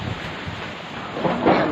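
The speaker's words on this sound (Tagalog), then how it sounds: "maririnig nyo po yung tunog ng hangin, as in sobrang lakas sa ngayon." Strong wind from Typhoon Ulysses roars outside a house balcony, a steady rushing gust that swells louder toward the end, heard alone without talk.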